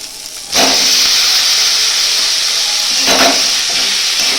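Loud, steady sizzle and hiss as pre-fried potato pieces go into hot frying spices in a pan, with a brief burst at the start and a stir partway through.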